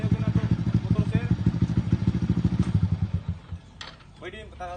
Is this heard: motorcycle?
yes